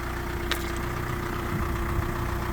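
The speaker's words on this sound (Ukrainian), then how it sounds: "Так, заведений двигун" A Renault Master van's diesel engine idles steadily nearby with a low, even rumble and a faint mechanical hum, unchanging throughout.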